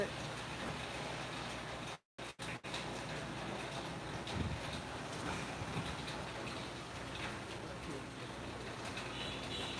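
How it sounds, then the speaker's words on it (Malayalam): Rain falls steadily in a continuous soft hiss, with pigeons cooing faintly in the background and a brief dropout early on. "മഴ ഒരു ഇന്റർവെല് വന്നിട്ട് ഇങ്ങനെ പെയ്യാണ്"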